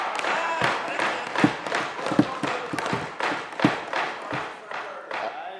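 Audience applause during a State of the Nation address, uneven clapping with thumping desk taps in a hall, rising and falling in loose bursts over several seconds.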